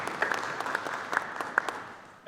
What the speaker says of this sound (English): Can we have a round of applause for our sponsor?